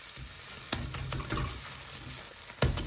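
A paratha frying in a hot pan, a steady close sizzle with a few sharp crackles and spits of oil standing out over about three seconds, with no voices.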